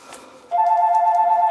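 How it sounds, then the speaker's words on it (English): A phone breaks in abruptly with a steady, pulsing electronic ring, loud and close, sounding alone with no talk over it. "and that's my phone."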